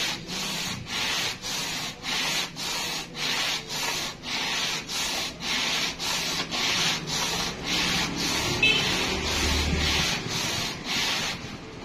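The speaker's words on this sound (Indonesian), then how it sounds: "Amplasnya memang harus tegang ya, harus rata. Oke, gosok terus seperti itu." Motorcycle cylinder head rubbed flat by hand on taut sandpaper, steady rhythmic back-and-forth scraping strokes, about two per second, close and alone.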